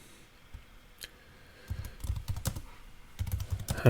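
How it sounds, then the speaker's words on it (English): Someone types on a computer keyboard nearby, beginning with a few sparse taps and then settling into a quick, uneven patter of clicking keystrokes. "now I can type out my post"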